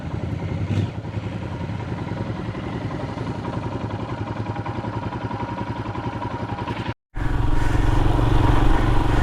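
A Royal Enfield Himalayan motorcycle rides along a wooded Smoky Mountains trail, its engine rumbling steadily and loudly up close with wind and road clatter, cutting out for a split second before resuming.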